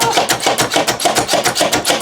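A hand-operated food chopper works through tomatoes with quick, regular crunching strokes, roughly six per second, loud and close with no voices.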